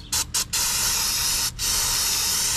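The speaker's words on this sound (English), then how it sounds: "First, aircraft paint remover." Aerosol aircraft paint remover sprayed onto parts of a Nissan 300ZX project car: a few short hissing bursts, then a long continuous loud spray close by.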